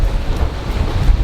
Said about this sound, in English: 15 knots of wind on the broadside